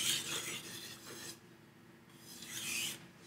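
A knife blade rasps back and forth across a 5000 grit whetstone in long, smooth, gritty strokes, about three passes, close and fairly quiet.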